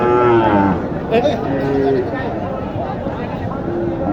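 Cattle moo repeatedly at a busy village cattle market in Naogaon, several drawn-out calls rising over a crowded din of nearby voices.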